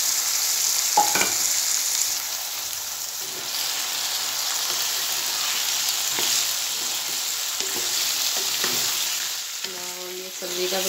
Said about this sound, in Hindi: ये देखिए प्याज हमारा ब्राउन हो चुका है, अब हम इसमें डाल देंगे सब्जी, साथ में डाल देंगे हरी मिर्चे और टमाटर।